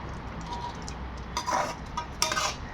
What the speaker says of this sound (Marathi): अधूनमधून चेक करत अशा पद्धतीने हलवून पुन्हा झाकण ठेवून शिजू द्यायचं.